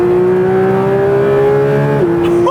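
A Porsche 911 GT3 of the 992 generation accelerates hard in third gear. Its loud, close engine note climbs steadily in pitch, dips sharply at a gear change, then starts rising again.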